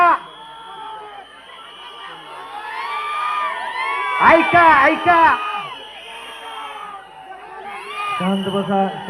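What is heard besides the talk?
crowd cheering at political rally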